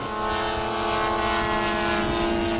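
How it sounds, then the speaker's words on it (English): Steady, loud drone of a remote-control model airplane's propeller engine flying at an outdoor RC airfield, holding a constant pitch with slight swells throughout, no talk over it. "Everything that you see out here is going to be remote control, and we've got some planes as large as over a 20-foot wingspan out here today."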